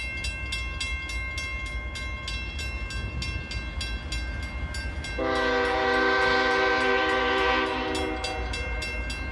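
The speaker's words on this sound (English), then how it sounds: "We got Norfolk Southern coming." A Norfolk Southern northbound mixed freight train rumbles past steadily while its horn blasts loud and near partway through, sounding a long chord before the rolling rail noise continues alone.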